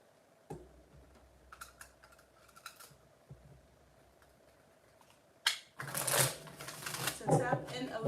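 A Shadow Work oracle card deck is handled and shuffled in quick, crisp bursts of riffling with scattered taps and clicks, fairly close and quiet at first, then louder toward the end.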